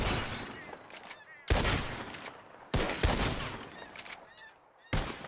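Several loud, sharp gunshots ring out at irregular intervals as bottles are shot in the Western video game Red Dead Redemption 2, with short sparkling shatters and a quieter ambient background between blasts.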